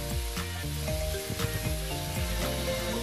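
Fresh beef sizzles steadily in a hot pan while being stirred, with a constant bright frying hiss and rhythmic scraping strokes of the utensil, close and alone.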